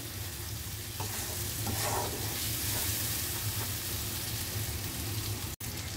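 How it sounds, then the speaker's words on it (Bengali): Spice paste (masala) stir-fried in a pan for a Kerala chicken dish, a steady close sizzle with scraping stir strokes throughout, one brief dropout near the end, no talking. "দেখো মশলাটাকে ঠিক এইভাবে অনেকক্ষণ সময় ধরে কষিয়ে নিতে হবে, যতক্ষণ না মশলাটা পুরো নরম হয়ে যাচ্ছে।"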